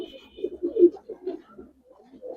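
A red Tambalal pigeon coos in a series of soft, low, rounded calls with a brief louder burst mid-way, then quieter trailing coos, heard close up with some faint background noise.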